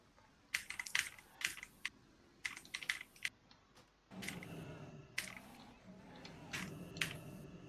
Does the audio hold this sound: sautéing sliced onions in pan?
no